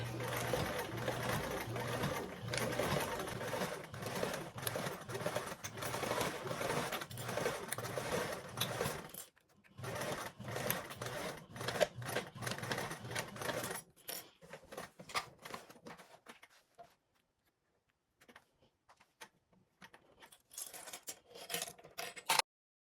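A sewing machine stitching and back tacking, running in rapid bursts with brief pauses and stops, close and clear, then trailing off into scattered clicks.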